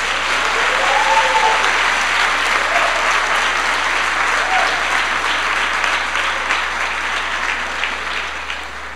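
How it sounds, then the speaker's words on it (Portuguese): An audience at a church conference applauds, sustained loud clapping from a large crowd that continues for the whole stretch, with faint voices calling out beneath it. "Você podia aplaudir o Espírito Santo?"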